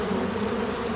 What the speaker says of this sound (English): Each of these is a honeybee hive,